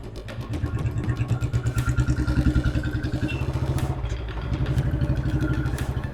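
A motorcycle engine chugs steadily at close range with a rapid pulsing throb and some rattling clatter, running continuously throughout.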